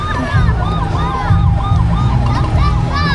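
Electronic siren from a toy fire engine ride, wailing steadily and loudly at close range, with a child and an adult talking over it.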